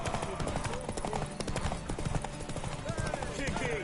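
Horse hooves clop rapidly in The Witcher 3 next-gen edition, a quick rhythmic beat running under character dialogue and ambient game sound.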